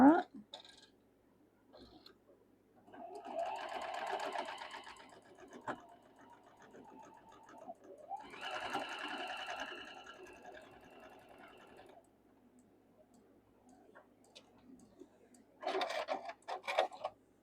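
Sewing machine stitching quilt block pieces together, running in two steady bursts of several seconds each and a shorter final burst, with quiet pauses between and soft handling noise.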